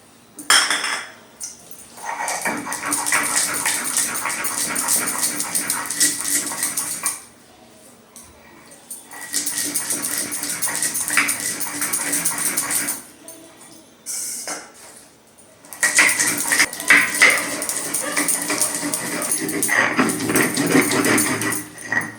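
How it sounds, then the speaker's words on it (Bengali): Spices, mustard seeds and dried red chilli, are ground on a sil stone in bursts of scraping, gritty rubbing of stone on stone, three long stretches separated by short pauses. "এটা আমি এখন শিলে বেটে নেব।"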